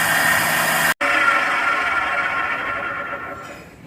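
A Retsch grinder huller for seed and grain runs with a steady, bright mechanical whir, cuts out for an instant, then resumes and slowly fades.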